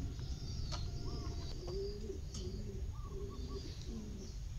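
Domestic pigeons, white and black birds kept at a breeding loft, coo in soft repeated rolling phrases at close range, with a few faint chirps and a steady low background hum.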